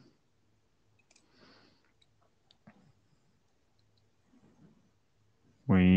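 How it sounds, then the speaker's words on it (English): Keyboard typing picked up through a remote meeting connection during an IETF session: faint, scattered clicks and soft taps at irregular intervals over a quiet background, cut off at the end by a loud voice starting to speak. "I think we can hear your keyboard now"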